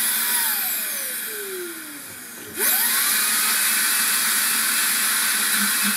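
Makita 40V cordless dust blower pushing air through 5 m of tubing: a loud steady rushing hiss with a whining motor tone that sweeps and dips, then surges back to a strong constant blast, alone without talk.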